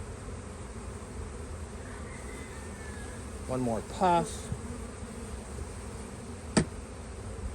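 Honeybees hum steadily around an open hive during a spring box addition. The drone is soft and continuous, a few short louder bursts stand out midway, and a person speaks briefly over the buzzing.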